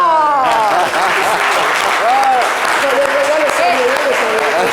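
Applause from a studio audience on a French-language talk show, loud sustained clapping with people talking over it throughout.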